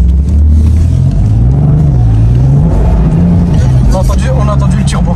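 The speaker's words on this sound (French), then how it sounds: "On a entendu le turbo." Turbocharged BMW M3 F80 tuned to stage 3 with over 700 hp, a loud engine drone rising and falling in pitch as it builds boost, with a whistling flutter near the end and voices talking over it.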